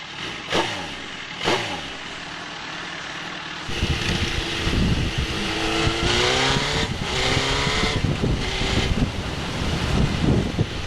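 A motorcycle fitted with a small exhaust modification for extra loudness blips its throttle twice with sharp rising revs, then settles into a loud, continuous rumbling idle and revving close to the microphone, with wind buffeting.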